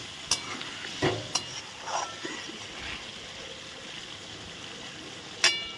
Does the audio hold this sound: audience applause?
no